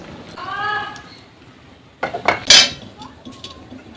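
A pan of freshly made caramel is lifted off the stove, giving a few sharp metallic clanks and scrapes near the end, after a soft tonal hum early on.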